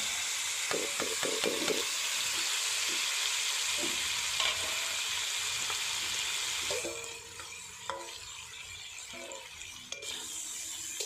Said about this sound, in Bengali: ম্যারিনেট করা মৌরলা মাছ দিয়ে দেবো কড়াইতে।